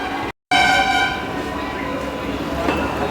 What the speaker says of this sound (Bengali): আর কিছুক্ষণ পরে এই ট্রেনটি আবার ছাড়বে কৃষ্ণনগরের উদ্দেশ্যে